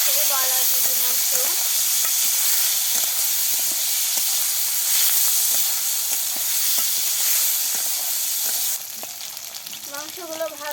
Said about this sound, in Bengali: মাংসগুলো ভাজা হয়ে গিয়েছে, এখন তুলে নিচ্ছে